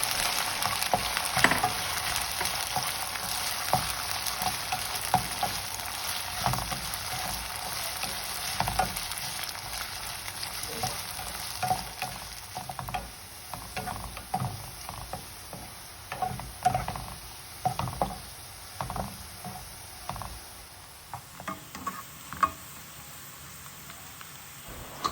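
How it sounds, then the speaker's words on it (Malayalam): Okra pieces frying in hot oil for a Kerala sadya kichadi, a steady dense crackling sizzle with scattered pops and stirring clicks, close and continuous, easing off near the end; no talking. "എണ്ണ നന്നായി ചൂടായി വരുമ്പോഴേക്കും നമ്മൾ നേരത്തെ മാറ്റി വെച്ച വെണ്ടക്ക ചേർത്തിട്ട് നന്നായിട്ടൊന്ന് ഫ്രൈ ചെയ്തെടുക്കാം"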